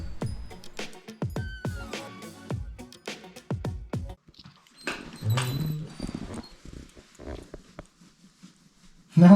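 A dog close by at a hill-station stop in Kodaikanal gives short whimpers, yelps and low growls in scattered bursts, with a faint voice in the background.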